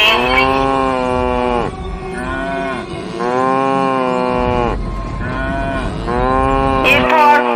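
Cartoon cow mooing in a farm story, three long, loud, drawn-out moos in a row that fill the whole stretch, with a short gap between calls.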